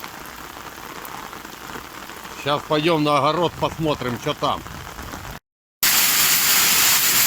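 Heavy rain mixed with hail pours off a roof in a loud, constant hiss, with someone speaking over the downpour before it cuts out briefly and returns.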